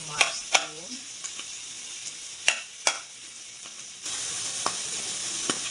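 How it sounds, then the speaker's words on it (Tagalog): Onions sauté in oil in a pan for chicken à la king, giving a light sizzle with scattered clinks of a stirring utensil, before the frying hiss swells louder and steadier near the end. "So magigisa na po tayo ng sibuyas."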